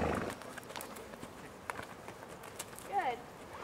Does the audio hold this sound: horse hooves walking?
yes